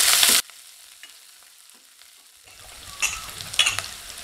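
Chopped onions and curry leaves sauté in a pan. A brief loud burst opens the sound, then it drops to a faint, quiet sizzle, with spoon-stirring scrapes and louder crackles near the end.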